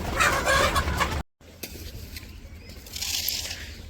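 Village chickens clucking at a farmyard feeding spot, a dense busy flock sound that breaks off briefly near the middle and then resumes more sparsely, with an outdoor background.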